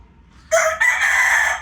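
A four-month-old McLean x Miner blue gamefowl stag crows loudly and close, one long strained call that breaks briefly and then carries on to the end.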